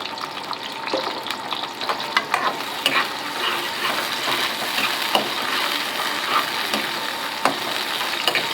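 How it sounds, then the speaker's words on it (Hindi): Onions sizzling and frying in a hot pan on a home stove, a steady loud crackle and hiss with occasional stirring clatter, no voices over it. "अब हम इसके अंदर डाल देंगे प्याज।"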